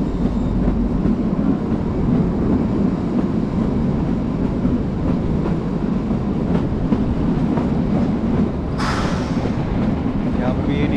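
The Kalka–Shimla toy train rumbles steadily along the narrow-gauge Himalayan mountain railway, heard from inside the carriage with a constant rolling roar, rhythmic wheel clatter and a brief bright squeal near the end.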